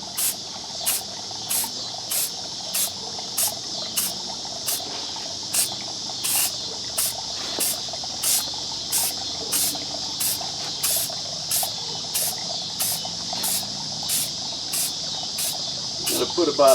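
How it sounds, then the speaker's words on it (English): A spray can puts another coat on a homemade rear bumper protector in steady, short hissing bursts, evenly paced about twice a second, close and fairly loud, with no talking. "so we'll get another spray coat on there."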